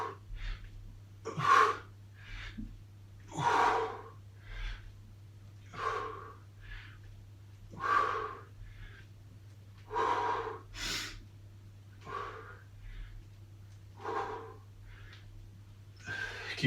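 Heavy rhythmic breathing during a workout exercise, close and loud, with sharp gasping inhales and forceful exhales repeating roughly every two seconds over a low steady hum, no talking.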